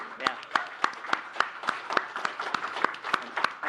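A small group claps for community moderators at a conference livestream, sparse sharp claps in an even rhythm, close and moderately loud with no talking over it.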